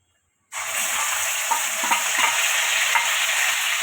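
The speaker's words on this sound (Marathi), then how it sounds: "आता आपण हे तेलामध्ये टाकूया" Ground paste of onion, tomato and green chili hitting hot oil, a sudden loud sizzle that bursts in after half a second of silence and keeps frying steadily, with light stirring knocks.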